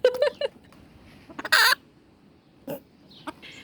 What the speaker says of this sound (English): This is the sort of sound that they will do if they see a predator or something that is threatening them